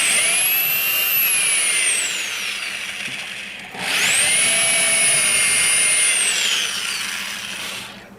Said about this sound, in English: this is 5/16 drill bit. We need to put vent holes around the perimeter